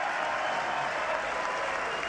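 A dense, continuous wash of clapping fills the US Congress chamber, a large crowd applauding steadily and loudly throughout.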